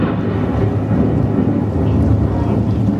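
A staged storm effect at a Magic Kingdom attraction in Disney World: steady heavy rain with a low rolling thunder rumble throughout, loud and continuous.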